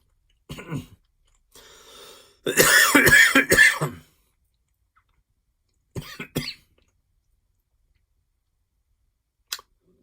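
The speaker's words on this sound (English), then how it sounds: "Had to clear a cough." A few coughs and a throat clear, close and fairly loud, in short separate bursts with quiet gaps between them.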